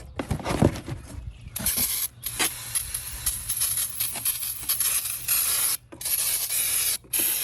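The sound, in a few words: spraying brake cleaner on new brake rotors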